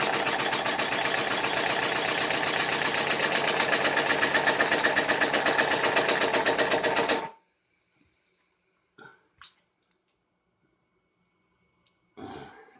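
A homemade air compressor built from a kid's toy motorcycle motor runs with a loud, rapid chugging pulse for about seven seconds, then cuts off, leaving near silence broken by a few faint handling clicks.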